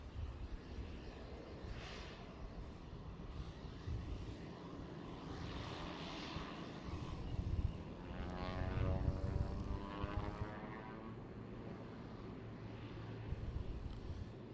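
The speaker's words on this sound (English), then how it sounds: "another PC-12 here" A Pilatus PC-12 single-engine turboprop at Boeing Field produces a moderate propeller drone that swells midway with a rising tonal buzz, then eases back, heard at some distance without any talking.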